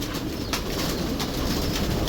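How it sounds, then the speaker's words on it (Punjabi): Pet pigeons kept by a pigeon fancier coo softly amid a dense, constant background hiss, with a brief flutter-like burst partway through. "ਇਹ ਦੇਖੋ ਮਾਸ਼ਾਅੱਲਾ ਕਬੂਤਰ"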